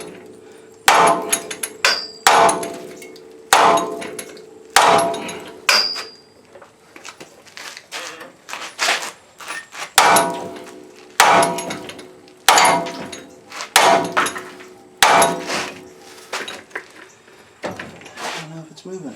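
Hammer blows on the strut nut of a 1997 Suzuki Sidekick during a strut replacement: about a dozen loud metallic strikes in uneven pairs and singles, each ringing briefly, close up.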